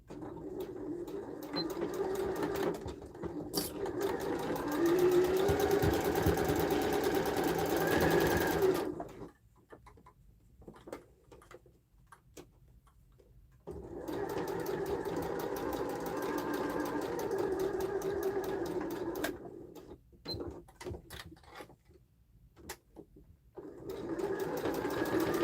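A sewing machine runs in two long, steady stitching bursts, stitching a half-inch seam on a sling with the bottom left open, separated by a quiet pause with light handling sounds.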